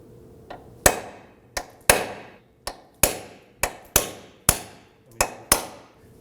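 Hammer blows striking the centre of a control arm bolt on a 2008-2011 Ford Focus front suspension, about eleven sharp metallic hits in an uneven rhythm, close and loud, each with a brief ring, no talking.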